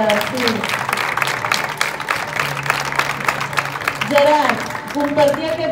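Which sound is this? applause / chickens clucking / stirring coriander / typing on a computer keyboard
applause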